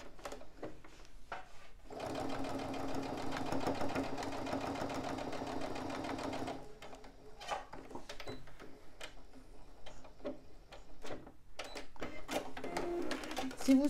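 A sewing machine topstitching a patchwork fabric pouch runs in a steady, rapid mechanical whir for about four and a half seconds, with quieter handling clicks and rustling of fabric before and after.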